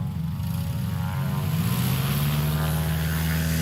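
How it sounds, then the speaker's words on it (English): A Piper PA-11 Cub light airplane at a STOL practice event runs its propeller engine with a steady, loud drone and a rising pitch, close by and continuous throughout. "That is a PA-11, I believe. Beautiful airplane."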